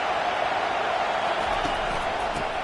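Dense, steady crowd roar fills a stadium at an Ohio State college football game, a broad wash of distant voices that hold level throughout without clear peaks.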